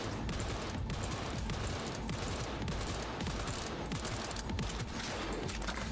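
Continuous dense gunfire in Cyberpunk 2077, a steady rattling barrage at moderate level with no breaks across the whole stretch and no talk over it.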